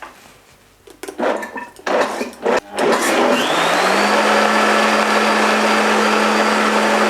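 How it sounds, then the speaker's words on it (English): After a few clattering knocks, a blender blending gandules hummus starts at slow speed and settles into a loud, steady whir that runs on without pause. "So we have it in the blender, and we're gonna start with a slow speed first"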